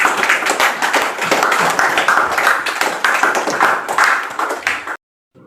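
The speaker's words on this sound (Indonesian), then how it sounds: "Silakan tepuk tangan untuk kita semuanya." Children clapping together in an elementary classroom, loud, fast and dense, rising and falling in bursts for about five seconds before stopping abruptly into silence.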